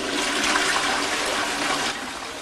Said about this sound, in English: Gonna flush it now, okay?